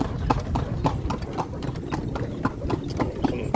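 A horse's hooves clip-clop in a steady, close, regular rhythm as it pulls a cart along a road on Gili Meno, with a low engine-like rumble underneath.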